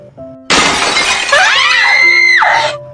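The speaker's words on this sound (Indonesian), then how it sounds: "Sementara di dalam ruangan tempat Gilce terdengar suara seperti kaca pecah yang sangat keras." A loud glass shatter bursts suddenly, with a bright crash followed by ringing, scraping shards that trail off over about two seconds in an indoor room scene of a Korean historical drama.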